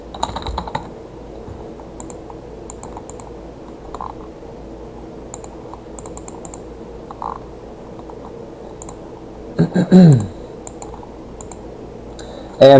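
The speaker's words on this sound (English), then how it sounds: "Type in your information." Typing on a computer keyboard, entering account sign-up information: quick irregular clicks in short bursts at close range, with brief pauses and a few louder knocks near the end.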